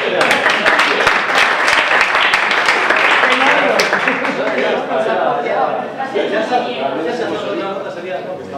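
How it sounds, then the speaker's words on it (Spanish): Audience applause at a Spanish-language workshop, a room of people clapping steadily for several seconds before it fades into chatter and voices. "Un aplauso."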